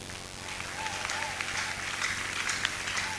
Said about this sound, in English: A round of applause for that's contestant number not all.